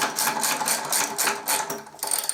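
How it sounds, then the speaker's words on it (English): A Triumph motorcycle wheel being spun back on and tightened, giving a quick, rhythmic mechanical whirring and ratcheting that pulses steadily up close for a couple of seconds. "I'm just going to spin that back on because I'm going to stick with that one, pop it on and do it up"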